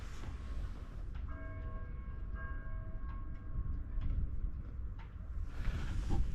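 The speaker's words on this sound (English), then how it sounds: "I don't know if you heard the bell there, but that is midday" A bell rings out the midday hour beside a river, a few clear tones from some distance, sustained and fading over low steady background rumble and wind.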